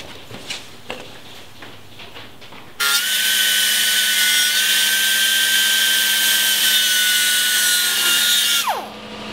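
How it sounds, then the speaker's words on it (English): A power tool grinds a bevel onto the bottom of a steel tube for welding, starting abruptly after a few quiet knocks and whining loudly and steadily for about six seconds before cutting off. "So I've beveled the bottoms here."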